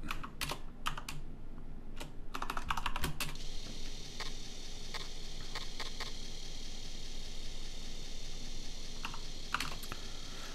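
Computer keyboard typing at close range, with quick clusters of crisp key clicks and short pauses, then single key presses spaced out over a faint steady hiss.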